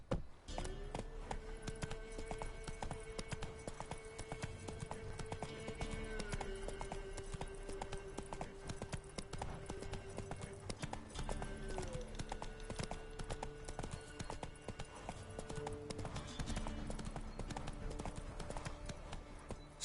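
Roach, the horse in The Witcher 3, trots with a steady, continuous clip-clop of hooves over a low background hum throughout, with no talking.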